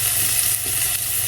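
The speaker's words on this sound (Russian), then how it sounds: "Поджариваем немножко." Food frying in a pan on an electric stove during a breakfast in Turkey, giving a steady, close hiss and crackle of sizzling oil that runs without a break, with no talking.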